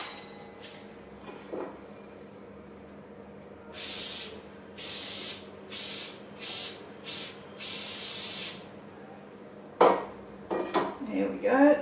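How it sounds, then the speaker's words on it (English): Several quick hissing bursts from a spray can greasing a baking container, in an uneven series, with soft clinks of kitchenware before and clattering dishes afterward. "I should give it a little spray out."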